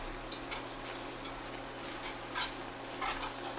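A spoon stirs vegetables caramelizing over lowered heat in a chicken and sausage gumbo pot, giving faint scraping and light clinking strokes at an irregular pace with a soft sizzle underneath.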